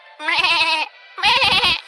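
A goat bleats twice in loud, close, drawn-out calls, each lasting more than half a second with a brief pause between, and no other sound around them.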